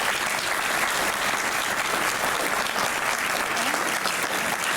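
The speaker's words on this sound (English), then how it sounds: "Let's have a nice big round of applause for" Sustained applause from a conference audience after a talk on neonatal resuscitation, a dense, steady wash of many hands clapping throughout with no break.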